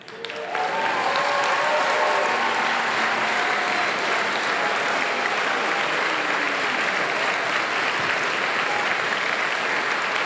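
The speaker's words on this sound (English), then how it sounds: "You can clap." The crowd at a 2021 high school commencement ceremony bursts into applause for the graduating class, quickly swelling into loud, sustained clapping with a few faint cheers and whistles, holding steady for about ten seconds.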